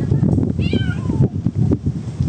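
A cat meows once, a short rising-then-falling cry heard close over steady background rumble and shuffling, with muffled movement noises around it.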